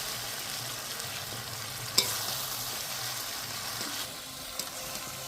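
Spices frying in oil in a village-style Bengali kitchen while chicken feet are cooked down, a steady close sizzle with stirring scrapes and one sharp knock, no voices.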